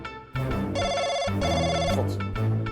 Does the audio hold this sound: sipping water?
no